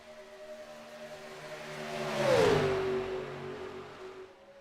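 Stock cars race at Daytona in the iRacing sim, with one engine drone swelling as a car sweeps past in a Doppler pitch drop before fading, under a faint constant hum of other cars.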